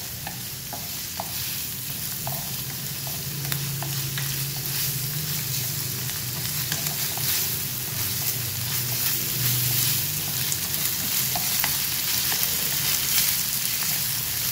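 Snails stir-fry with onions in a hot pan, a constant loud sizzle with rhythmic scraping and tapping of the spatula as the pan is tossed and stirred.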